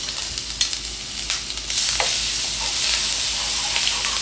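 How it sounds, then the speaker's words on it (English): Garlic frying in hot oil for a fried chickpea snack: a few clinks and light sizzling, then a loud sustained hiss as the garlic hits the oil and keeps spitting, heard up close. "I'm gonna fry up the garlic"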